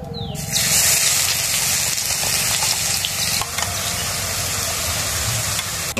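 Grated carrot hits hot ghee in a pan with a sudden loud sizzle that settles into a steady, continuous frying hiss, with faint stirring noises underneath.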